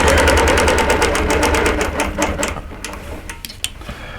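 A quilting machine stitches a pantograph pattern, a rapid, steady mechanical clatter of needle strokes, loud and close, slowing into sparser ticks near the end.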